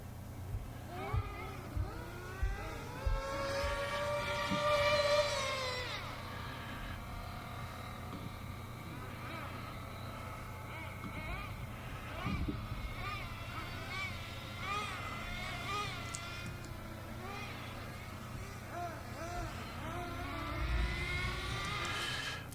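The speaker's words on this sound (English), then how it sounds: "But I'll play just the cars." Cars driving past near a park, a steady traffic wash with engines rising and fading at moderate distance, mixed with other ambient layers and some voice-like tones throughout.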